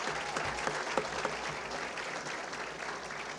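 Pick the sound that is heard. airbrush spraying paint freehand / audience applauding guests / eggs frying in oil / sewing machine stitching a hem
audience applauding guests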